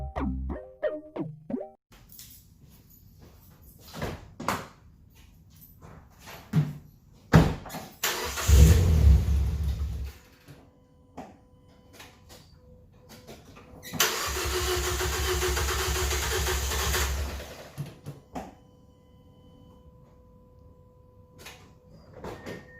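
A Mazda 2 fitted with a Corksport airbox and DDMWorks short ram intake, with scattered clicks and knocks, a loud cranking burst that briefly catches, then a few seconds of close engine running that cuts off before more clicks.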